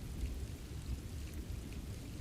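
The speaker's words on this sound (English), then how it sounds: "listen to the rain on the roof" Steady rain drums on a roof while low thunder rolls continuously underneath, a dense, even wash with no voices.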